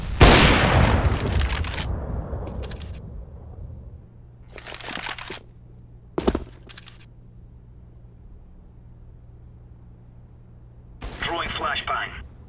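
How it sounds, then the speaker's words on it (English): A grenade goes off in Counter-Strike: Global Offensive on the Mirage map, a loud, deep blast that decays over a couple of seconds, followed by scattered gunshot bursts and a final noisy burst. "Throwing a grenade."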